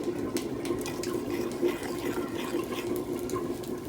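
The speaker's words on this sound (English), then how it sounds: "I'm going to pour small amount of water" Water is poured into a pot of bitter leaf soup (ofe onugbu), a steady close trickling and splashing stream running continuously at moderate volume with no talking.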